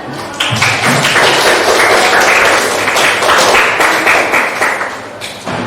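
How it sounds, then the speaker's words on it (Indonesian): A room full of people applauds, a dense patter of clapping that swells quickly and carries on steadily for several seconds before tapering slightly. "Beri tepuk tangan."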